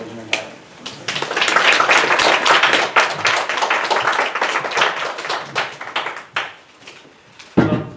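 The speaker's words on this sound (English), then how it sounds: "Please join me in a round of applause for Benjamin Filene." An audience claps for a keynote speaker, fairly close individual claps that swell into dense applause after the first second, then thin out and trail off near the end.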